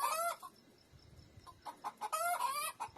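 Local hens cluck and squawk while being vaccinated by hand at a home poultry pen, loud agitated bursts at the start and end with a quieter stretch between.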